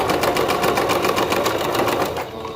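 A sewing machine stitches a romper bodice in one fast, steady run of needle strokes, close and loud, slowing and stopping just before the end.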